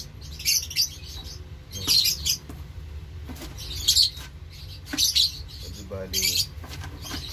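Small birds chirp and tweet in short repeated bursts over a steady low background hum.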